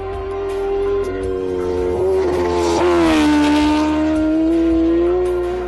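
A Kawasaki Ninja H2R motorcycle races at the Isle of Man, its engine holding a loud, steady high-pitched whine that swells and shifts slightly in pitch as it passes close, with no talk.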